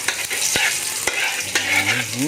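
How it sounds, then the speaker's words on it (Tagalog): Garlic sizzles steadily in a hot pan while a utensil scrapes and stirs it, giving several distinct clacks and scrapes over the continuous frying hiss. "At lagay na natin itong bawang"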